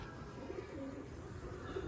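Several pigeons coo steadily in low, soft, overlapping calls against continuous outdoor background noise, with no voices present.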